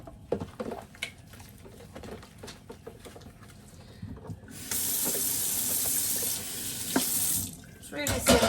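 A part of a kitchen appliance is rinsed under a running tap in a sink, with scattered clatter first, then a steady loud gush of water for a couple of seconds before it stops and handling resumes.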